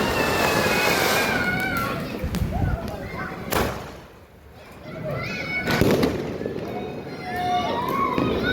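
Diwali firecrackers going off outdoors, sharp bursts and crackles over a busy background of children shouting and playing, with a brief quieter gap before more noise builds again.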